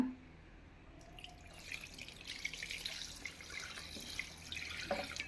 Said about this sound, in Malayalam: ലേശം വെള്ളം ഒഴിച്ച് കൊടുക്കുക